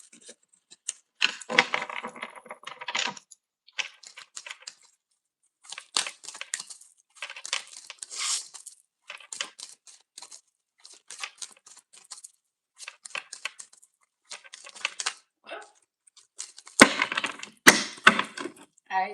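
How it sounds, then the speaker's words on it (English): Tarot cards being shuffled by hand, close bursts of riffling and slapping card noise in irregular bunches separated by quiet pauses, with no talk. "I like to get a good little shuffle for each of you guys."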